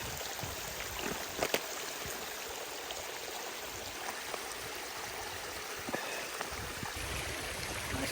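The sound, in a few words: stream water flowing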